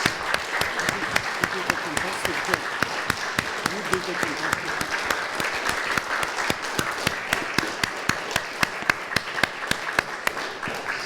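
An audience applauds after a poetry reading of poems on being, love and grief, a sustained dense wash of clapping filling the room, with a speaker's voice talking over it.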